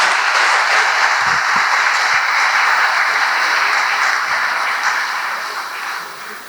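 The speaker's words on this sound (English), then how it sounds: "I ask you to join me in giving a big round of applause to congratulate our 80 young men and women" Sustained applause from a large audience at a 2021 graduation ceremony, dense and steady throughout before tapering slightly toward the end, with no talking over it.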